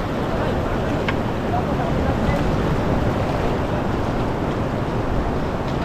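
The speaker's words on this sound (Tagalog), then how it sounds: "Pero pag nandito tayo, may alon." Sea waves slapping against a boat out on open water, heard as a steady, loud broadband wash with wind buffeting the microphone throughout.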